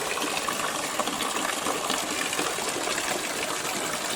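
Rainwater runs and trickles in a continuous stream during a downpour, a close, steady gushing hiss with no pauses and no talking.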